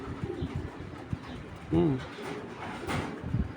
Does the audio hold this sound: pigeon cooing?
yes